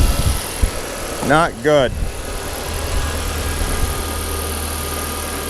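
A Mazda 6 with a no-crank, no-start fault now runs and idles as a steady, fairly quiet engine hum. Someone speaks briefly near the start, then the idle carries on alone.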